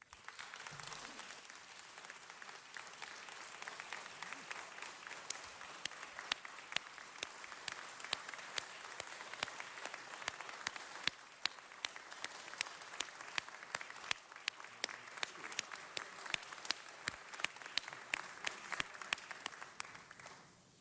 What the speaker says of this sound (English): why don't we give Jerry Miller and Richard a round of applause?